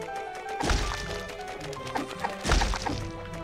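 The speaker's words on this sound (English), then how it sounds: "Smashing pumpkins." Pumpkins burst in Secrets of Grindea with two solid, thwacking smashes a couple of seconds apart, each a close crunchy hit over steady game music and effects.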